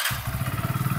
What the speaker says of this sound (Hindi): नॉर्मल बाइक को स्टार्ट कर देगा